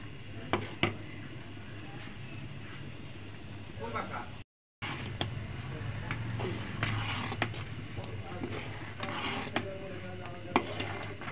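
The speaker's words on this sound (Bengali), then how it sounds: "এভাবে সর্বক্ষণ চামচ দিয়ে নাড়তে থাকবেন, তাহলে নিচে লেগে যাওয়ার সম্ভাবনা থাকে" A spoon scrapes and stirs thickening palm pudding with coconut in a pot, giving soft, steady rasping strokes at low level with a brief dropout midway.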